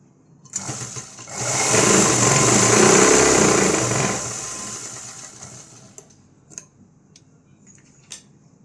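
A sewing machine runs a top stitch along folded blouse fabric in one loud, close burst of about three and a half seconds, then stops, followed by a few scattered handling clicks and taps.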